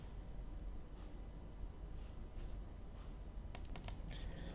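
A computer mouse clicks and keys tap quietly in a small room, with a short cluster of crisp clicks near the end over a low background hiss.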